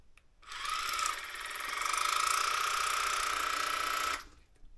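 A small electric toothbrush or water flosser motor runs with a steady high-pitched whirring buzz for about four seconds, starting and stopping abruptly, close and moderately loud with no talking.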